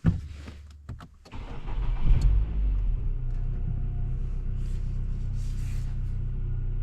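A Nissan on a test drive after an EVAP leak repair: steady low engine rumble and road noise fill the cabin, with a few bumps and knocks early on, then an even drone continuing without talk.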